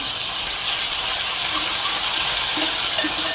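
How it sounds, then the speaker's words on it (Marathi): Masala paste being sautéed in hot oil for matki usal, a spicy sprouted moth bean curry, gives a loud, steady, close sizzle that runs without a break and has no voices over it. "एक दोन चमचे आपण वाटण घातले यामध्ये हेही परतून घेऊया"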